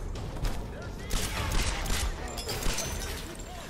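Rapid gunfire from a firefight in the Tomb Raider video game, a dense fusillade of overlapping shots running throughout under people talking.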